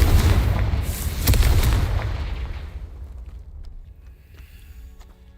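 A Confringo fire spell explodes in a Harry Potter video game, a loud booming blast with a rumbling burst that rolls on and slowly fades into a low tail.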